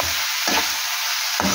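Mutton heart fries in a pan, a steady broadband sizzle running throughout with two brief stirring scrapes, close and fairly loud with no talking.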